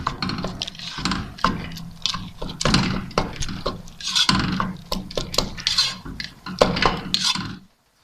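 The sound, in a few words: stirring carrot rice pudding (gajrela) in a pot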